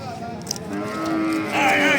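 A cow lets out a long, low moo close by that swells and rises in pitch near the end, with faint background voices, at a cattle market.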